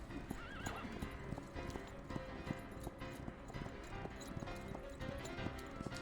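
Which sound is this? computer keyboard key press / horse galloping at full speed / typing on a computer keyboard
horse galloping at full speed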